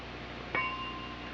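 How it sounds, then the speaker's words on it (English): A single bright bell ding rings out on a 1988 TV game show, Blackout, its clear tone sustaining briefly over a low studio hum. "and you'll hear the bell"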